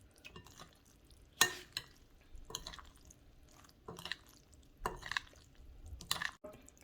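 A spoon stirring and folding macaroni salad with braised chicken in a bowl, producing a series of soft, wet, squelching scrapes at irregular intervals, fairly close, with no voices.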